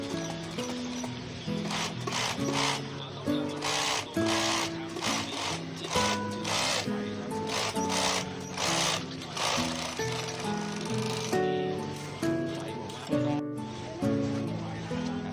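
A sewing machine runs steadily and close by as it sews and trims off the excess fabric at a trouser crotch seam, its rapid rhythmic clatter continuing throughout with slight changes in pace.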